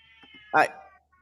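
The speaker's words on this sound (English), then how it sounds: "I'm hearing cats in the background, Kat." A house cat lets out a single short, clear meow at close range over a quiet background hum.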